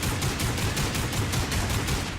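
Rapid, continuous automatic gunfire from the video game Lost Planet 3, a dense loud volley of evenly spaced shots filling the whole moment with no voices over it.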